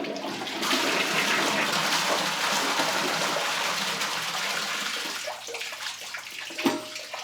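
A toilet flushes three golf balls in a long, loud rush of swirling water that gradually fades into gurgling and trickling as the bowl refills.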